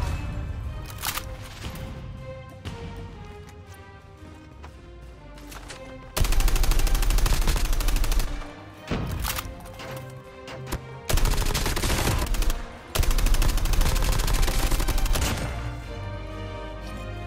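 Bursts of automatic gunfire in Call of Duty Mobile while the player strafes and backs away, loud sustained volleys separated by short pauses with quieter ambient game sound between them.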